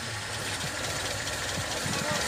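A Lada Zhiguli engine idles at a used-car lot, a steady mid-pitched rumble with faint knocking pulses, close and continuous while people talk nearby.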